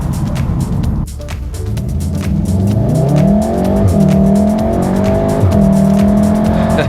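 A Volkswagen Golf MK7.5, GTI or R, in race mode gives a loud engine roar that climbs through the revs and drops sharply at each gear change, with a steady drone between the shifts.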